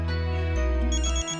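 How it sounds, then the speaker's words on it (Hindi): A telephone rings with an incoming call in a family home scene, a steady electronic ringtone with a melodic pitch change partway through, loud and close with no voices over it. "उनका खुद ही फोन आ गया।"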